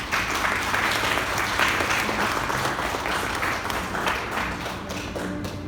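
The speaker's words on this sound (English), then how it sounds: "let's have a round of applause for Edison Tapanis." Audience applauds a graduate at a Class of 2021 graduation ceremony: dense, sustained clapping from a sizable crowd fills the whole stretch at an even level, easing slightly toward the end.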